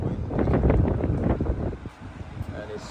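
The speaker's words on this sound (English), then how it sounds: "It's so windy" Strong wind buffets the microphone beside a trailer on a rainy day, giving a loud, rumbling, gusting roar that eases slightly toward the end.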